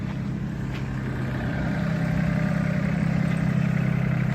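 A Solis 26 tractor with a Mitsubishi engine runs steadily nearby, a low droning rumble with a constant throb that grows slightly louder partway through.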